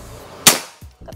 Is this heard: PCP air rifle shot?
yes